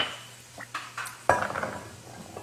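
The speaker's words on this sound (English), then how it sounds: "I'm going to put my veggies into the pot and just cover it with enough water that everything is covered." Vegetables dropped into a pot before being covered with water: a few light knocks and clatters, then a louder clunk followed by scattered rattling close by.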